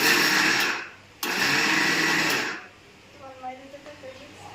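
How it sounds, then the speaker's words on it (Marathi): A kitchen mixer grinder whirs loudly through soaked chana dal in two close bursts, the first about a second long and the second slightly longer after a short pause, followed by people talking. "इकडे बारीक करणं चालू आहे"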